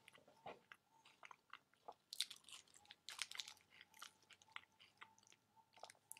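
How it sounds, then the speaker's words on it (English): Someone chews a raw wrap filled with dates up close, with moist, crunchy bites and mouth sounds that come in irregular bursts, quiet with no talking. "start chewing."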